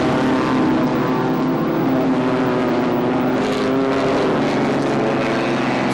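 Vintage racing cars, among them an Alvis and a Lagonda, roar past as a pack in a handicap race. Engine noise is loud and steady, with no gap for the whole stretch.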